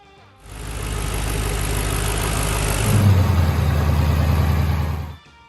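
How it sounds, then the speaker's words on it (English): A Ford Mustang GT prototype with the 5.0 Coyote V8 idles steadily and loud in a Dearborn test facility, with a deep rumble that thickens slightly toward the end before cutting off. "A prototype Mustang GT sat idling in Ford's Dearborn test facility"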